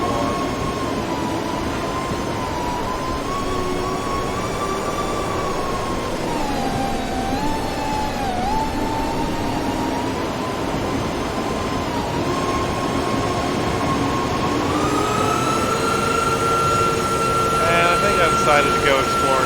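A fast FPV quadcopter in the TrypFPV simulator whines continuously at close range, its pitch dipping and rising as the throttle changes and then climbing higher near the end.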